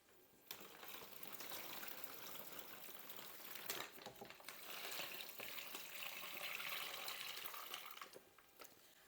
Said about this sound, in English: Fit our turkey into the bag. And then cover the turkey with our brine.